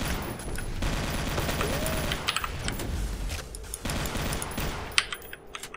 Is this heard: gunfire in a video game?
yes